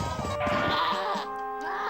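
A goat in the Ed Edd n Eddy video game lets out a single loud, wavering bleat lasting about a second, followed by a short second cry, close and clear with no talk.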